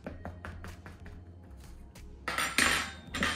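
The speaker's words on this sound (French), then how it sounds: "je vais venir piquer la pâte au fond" A fork pricking quiche pastry dough in a tin, a quick series of light taps and clicks against the metal, followed by louder scraping and rustling bursts near the end.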